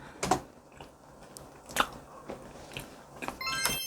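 Bites into a thawed, fridge-defrosted cookie choux with a few sharp crunchy snaps spaced over a few seconds, close up with quiet chewing between.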